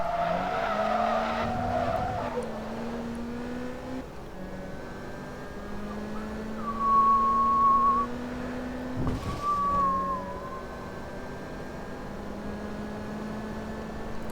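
A Lotus Sport Exige racing car engine in Forza Motorsport 2 drones steadily at high revs, shifting pitch as gears change, with brief tire squeals partway through.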